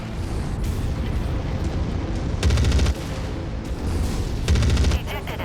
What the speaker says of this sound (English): Next up were Gauss rifles.